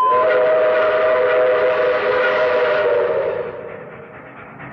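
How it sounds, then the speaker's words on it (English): A train whistle blows in one long, loud, steady chord, then fades away after a few seconds. "Train, a train,"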